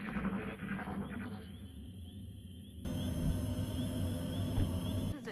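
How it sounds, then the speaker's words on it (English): Alien drones approaching in XCOM: Long War, an eerie electronic hum with chirping, sonar-like tones that grows suddenly louder and denser partway through, with no talking. "That's the sound of our last pod, which is apparently comprised of drones."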